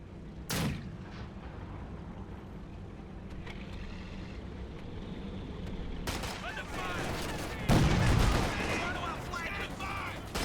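Bursts of MG-42 machine gun fire and heavy blasts in the World War II strategy game Company of Heroes 2, loud impacts near the start and around the two-thirds mark over a steady rumbling battlefield din, with voices speaking at times.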